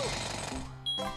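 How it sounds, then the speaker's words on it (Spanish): A rapid mechanical drilling rattle from Banjo-Tooie's beak drill attack, a dense buzzing burst that fades, followed by a short bright tonal ping and a second brief burst. "Un poderosísimo pico taladro."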